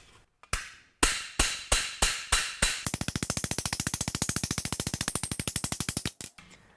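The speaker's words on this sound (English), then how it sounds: "I just need to start hammering in this area, and the more I hammer, the more it will dome." A hammer shapes sheet metal into a dome for the rear portion of a build, first six separate loud, ringing blows, then a fast, steady run of close metallic strikes lasting several seconds.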